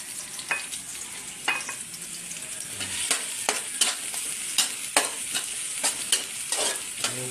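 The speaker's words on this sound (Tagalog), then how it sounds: "Gisahan lang ang gisahin. Surog ulit natin ang sibuyas." Onions sautéing in a pan after ginger, with a continuous sizzle under repeated sharp scraping strokes of a spatula against the pan, close and fairly regular, without any talk.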